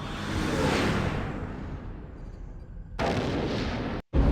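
Starship phasers fire in the Star Trek Starfleet Academy video game: a loud, sustained blast with a sweeping whoosh, cutting off briefly, then resuming at full strength before a short gap and a final burst.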